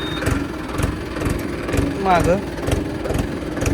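A tractor engine idles steadily in neutral with high range engaged, a continuous close chugging drone that holds even throughout. Someone speaks briefly over it.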